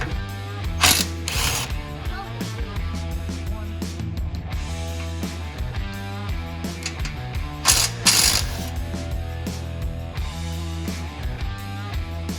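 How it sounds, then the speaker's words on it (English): A hand ratchet working the two 16mm bolts off a brace on a Jeep JL, close and fairly quiet, with fast repeated clicking in runs and a few sharper metallic knocks. "we're gonna remove the brace that goes across here with these 2 16mm bolts"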